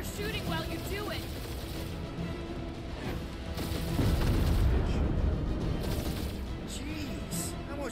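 Dense, continuous game combat from Guardians of the Galaxy: booming explosions and blasts layered over rapid gunfire and a steady rumbling bed, swelling louder midway, with character voices speaking over the action.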